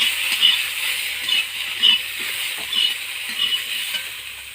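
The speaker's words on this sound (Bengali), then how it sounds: "এবার আলু ভাজা করব।" Potatoes fry in a pan with a steady, bright hiss of sizzling oil, moderately loud and close, pulsing slightly as the pieces are moved, with no voices.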